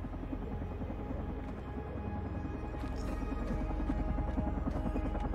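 A helicopter in the game Carrion thrums with a steady, rapid rotor pulse and engine drone throughout, loud and close, with a few sharp metallic clanks breaking through near the middle.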